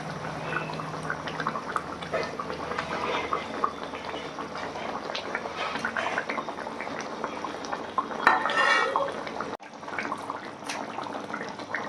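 Fried pabda fish going into a bubbling yogurt curry gravy in a pan over a high gas flame, with a steady simmer, close clinks of a utensil and a short louder splash and sizzle near the end.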